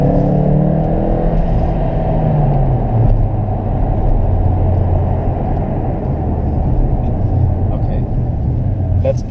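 A Mercedes CLA45 AMG drives along with its engine note rising briefly early on, then settling into a steady loud road rumble and cabin drone throughout.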